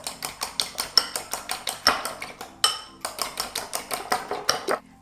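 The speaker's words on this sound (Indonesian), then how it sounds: "Oke, ini kita mau kocok dulu." A seasoning mixture of powdered broth, salt and a little pepper is whisked in a bowl: a quick, rhythmic run of bright clinks as the utensil strikes the bowl, with no talking.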